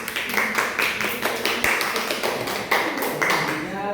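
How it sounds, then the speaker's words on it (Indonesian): Students in a microteaching classroom give rhythmic, evenly paced applause for group one, loud and close, with voices mixed in under the clapping. "Tepuk tangan untuk kelompok satu."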